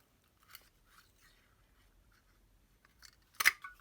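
Scissors cut cardstock in a quiet room, making faint snips early on and then one sharp, louder crisp cut near the end, close with no voices.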